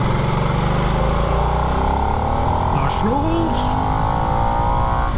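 A 2022 Harley-Davidson Nightster motorcycle engine runs loud and steady at close range, its pitch shifting through a couple of revs, while a person talks over it.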